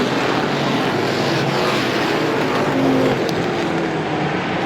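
Race cars circle the oval at Star Speedway in a Strictly feature, their engines making a dense, continuous roar at a steady loud level, with no voices heard.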